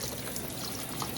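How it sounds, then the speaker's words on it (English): Cold tap water runs over the lid of a pressure cooker in a kitchen, a steady close hiss and splash of pouring water that continues evenly throughout the short stretch. "So, I have some cold water running here."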